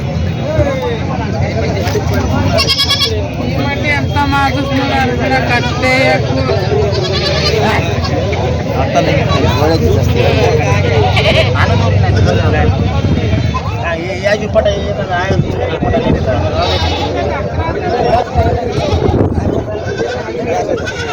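Goats bleat repeatedly at the large Vasmat goat market in Hingoli district, a crowded chorus of overlapping cries amid market hubbub, with someone talking over them.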